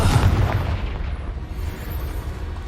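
A Confringo spell in Hogwarts Legacy lands with one loud, close, booming explosion that rumbles out into a fading roar, with no talk.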